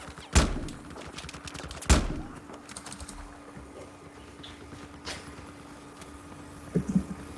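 Gunfire in Battlefield 4's Gun Master mode: a few sharp, loud shots spaced a second or more apart, with a fainter report midway and a quick double crack near the end, over a low background hum.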